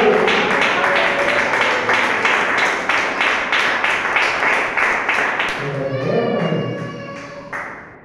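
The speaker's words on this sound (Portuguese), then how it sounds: "bate palmas ao Pai" A church congregation claps in a steady rhythmic beat, loud and close, with voices singing over it before the clapping gives way to an excited shout.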